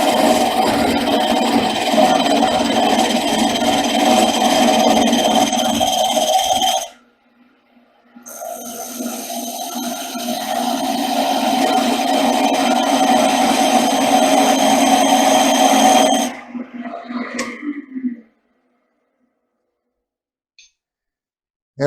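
A skew chisel peels wood on a lathe during spindle turning: a steady droning hum with a brief pause midway, then the tone cuts off and quiet ticks follow.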